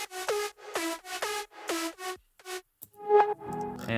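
Synth harmony layer from an electronic music drop, playing bright, buzzy chord stabs in a choppy rhythm before a short sustained tone and a final lower, denser chord.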